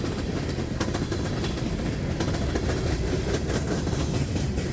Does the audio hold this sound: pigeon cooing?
no